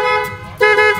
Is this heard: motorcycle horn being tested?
yes